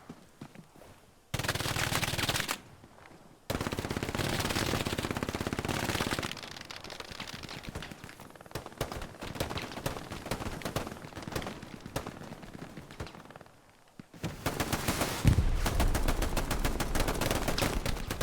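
Gunfire in the World War II shooter Hell Let Loose during an 18-versus-18 match: bursts of machine-gun fire and rapid rifle shots, loud and continuous, with brief pauses and a heavy blast near the end.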